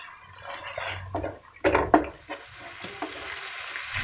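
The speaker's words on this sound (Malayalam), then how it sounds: "ഇനി ഇതൊന്ന് നന്നായി ഇളക്കി കൊടുക്കണം." A spoon stirs chilli egg sauce with tomato sauce in a pan, giving soft scraping strokes and light wet sizzling in several short uneven bursts, close up and fairly quiet.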